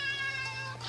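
A cat meows once in a drawn-out, clear call lasting about a second, close and alone with no talk.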